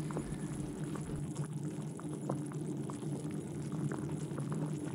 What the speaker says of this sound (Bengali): ঝোলটা ফুটে গেছে, টকবক করে ফুটছে।